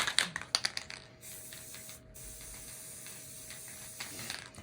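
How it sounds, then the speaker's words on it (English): Gorilla Glue spray adhesive released from an aerosol can during a craft project: a few sharp spurts at the start, then a soft, steady hiss, close and fairly quiet. "I'm going to use my Gorilla Glue spray adhesive."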